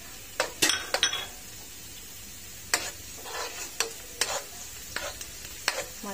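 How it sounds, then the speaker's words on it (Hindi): Onions frying in a pan as garlic is added for dal, with intermittent stirring clinks and scrapes of a utensil against the pan over a low, steady sizzle, close by with no talking. "प्याज के कलर आना शुरू हो गया, उसी के साथ हम अपना लहसुन भी ऐड कर देते हैं जल्दी से"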